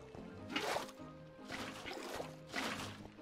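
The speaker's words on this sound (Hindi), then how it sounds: "भाई मैं पानी डाल रहा" Water poured from a bucket in Minecraft: three soft liquid splashing, sloshing swells about a second apart, faint, with a low background hum.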